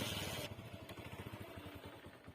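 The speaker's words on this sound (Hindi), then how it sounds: "बैठते हैं मोटरसाइकिल पे और चलते हैं जी अपने मंजिल मकाम पे" A motorcycle engine idles and starts moving on a rural road in the afternoon, a low, steady rhythmic thrum that follows a brief burst of louder noise at the start, faint and fairly distant.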